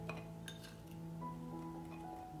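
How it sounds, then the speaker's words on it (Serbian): Glass jar clinking softly as chopped onion and carrot slices are spooned in, a few faint bright taps over a quiet, humming kitchen background. "Sada ću napuniti drugu teglu."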